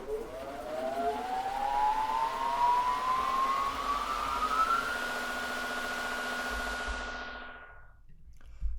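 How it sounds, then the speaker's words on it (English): Self-made synthetic machine riser for a pluggnb beat intro, a tone sweeping steadily upward for about five seconds over a noisy wash, holding at the top and then cutting off abruptly into near silence. "I have this like machine riser thing that I made"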